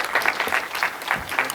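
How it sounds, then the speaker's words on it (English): Audience at an ICT summit applauding a presenter, steady dense clapping throughout, close and full with no talk over it. "Please give him a round of applause."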